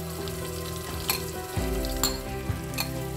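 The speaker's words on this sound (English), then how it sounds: "Cook this fenugreek leaves with onion for" Fenugreek leaves sizzle and fry in a pan with onion, garlic and ginger, a steady close crackle broken by a few stirring scrapes and taps.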